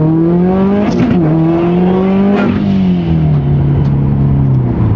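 A built Subaru STI accelerates hard from inside the cabin, its engine roaring loud and steady as revs climb, dip at a gear change and climb again.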